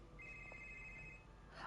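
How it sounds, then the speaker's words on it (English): A phone rings faintly in the Spider-Man PS4 video game, a single thin electronic trill lasting about a second over a low background hum. "for a second I thought that was my phone ringing"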